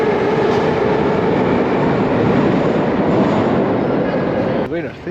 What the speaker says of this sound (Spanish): estoy en la estación central de Minsk, de trenes